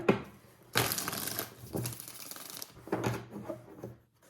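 Playing cards are riffled and shuffled in several quick bursts, crisp papery flutters separated by short pauses, close and fairly quiet.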